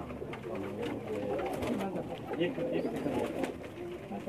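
Old-breed pigeons, fifteen to twenty years old, coo steadily on a Pakistani rooftop loft, a dense layered murmur of several birds close by with no clear voices.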